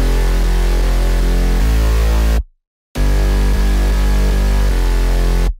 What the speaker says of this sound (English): Together the fat bass line sounds like this.